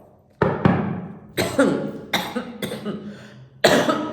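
A series of harsh coughs, about six bursts spaced irregularly, loud and close, with brief quiet gaps between them.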